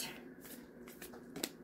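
Quick riffling and flicking of an oracle card deck being shuffled up close, with a few sharper snaps, no talking.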